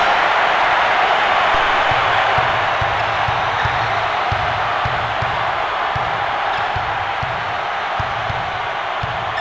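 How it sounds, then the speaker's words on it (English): Steady, loud roar of an arena crowd in the NCAA March Madness 2001 basketball video game on PS1, with rhythmic ball bounces thumping underneath throughout. "With the crowd making this much noise, the offense was confused and coughed it up"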